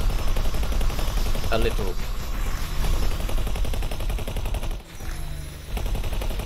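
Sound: ship turret gunfire in the video game X4 Foundations

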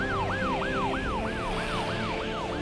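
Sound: police siren

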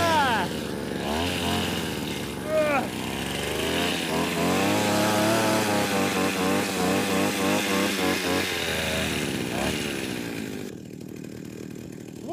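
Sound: chainsaw engine running after starting

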